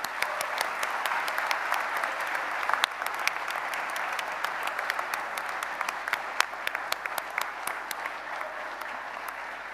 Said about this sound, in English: could you please give them a huge round of applause and maybe a cheer to say thank you